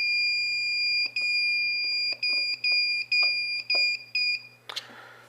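Straight Talk Remote Alert Device sounding its alarm: a steady two-tone electronic beep in repeated bursts of roughly one second, moderately loud and close, ending with a short burst of noise.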